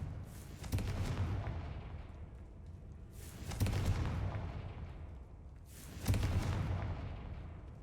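Three separate booming blasts of the Confringo fire spell in Hogwarts Legacy, each a loud burst that fades slowly, evenly spaced a few seconds apart.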